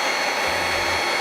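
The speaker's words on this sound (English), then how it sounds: "If you don't have a heat gun, you can use a hair dryer." A hair dryer blowing steadily to warm a door sill graphic, a loud continuous broadband whoosh with a low motor hum, close and uninterrupted.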